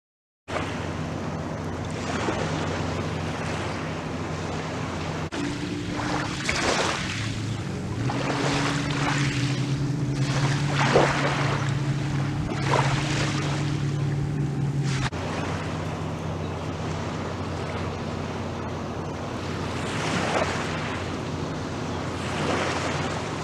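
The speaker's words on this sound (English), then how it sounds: "I take a walk along the beach here at Sunken Meadow to see what we can find" Waves wash onto the beach at Sunken Meadow in a steady, continuous rush, heavy with wind buffeting the microphone, with no voices.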